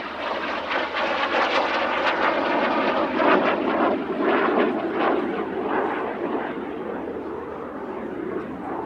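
Jet Provost T5 jet trainer at an air show, a steady loud roar of jet engine noise sweeping past without a break, broad and rushing, with no voices over it.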